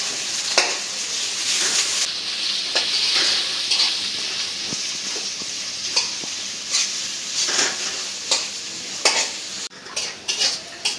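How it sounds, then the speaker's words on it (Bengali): Onions and green chillies frying in a pan for a Bengali fish curry, with a steady sizzle under repeated stirring and scraping of a utensil against the pan, close and fairly loud throughout. "পেঁয়াজটা অল্প একটু ভেজে নেব কিছুক্ষণ,"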